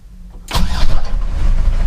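Mercedes T1 310D diesel van engine cranks briefly then catches and fires up almost immediately, settling into a loud, rumbling idle close by, with no talking.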